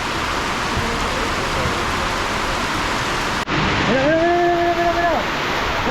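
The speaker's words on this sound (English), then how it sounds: "it rains really hard for a few minutes and then it stops" Heavy tropical rain in Cali, Colombia pours in a dense, loud, steady hiss that runs unbroken throughout, with a voice speaking briefly over the downpour near the end.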